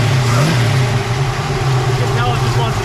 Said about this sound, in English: Beautiful running engine.